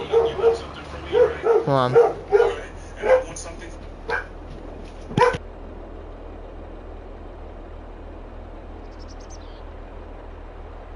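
Dogs bark in a quick cluster of sharp yips and woofs at close range while someone speaks over them, then the barking trails off into a low steady background hum.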